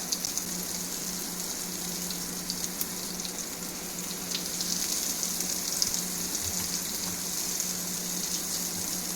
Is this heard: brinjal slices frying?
yes